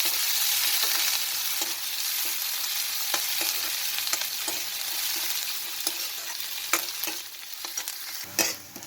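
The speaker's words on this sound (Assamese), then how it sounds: "এইফালে পিঁয়াজখিনি ব্ৰাউন কালাৰ হোৱালৈকে ফ্ৰাই কৰি ল'লোঁ।" Finely chopped onion frying in a pan until brown, a constant crackling sizzle broken by regular scraping strokes of a spatula, louder stirring near the end, no speech.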